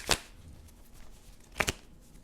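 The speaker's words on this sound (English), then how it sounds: "Shuffle of the deck." Two short, crisp bursts of tarot cards being riffled and shuffled, quiet and close, about a second and a half apart with near silence between.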